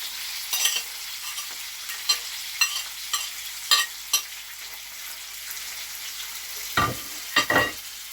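Meatballs cooking in sauce in a pan, a steady soft sizzle broken by several spoon stirs and scrapes, near and moderately loud, with no speech.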